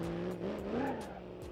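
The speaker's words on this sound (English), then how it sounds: "Doesn't sound like your average, normal Lamborghini." Lamborghini engine in the driving game BeamNG.drive, revving under load with a rough, unusual tone: a faint, continuous whine that rises and falls over about a second and a half, with tire noise underneath.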